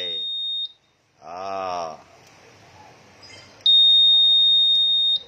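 A Honda Vario smart key system beeps while pairing, giving a short high tone, then a longer sustained beep near the end, close and clear. A voice speaks in the gap between.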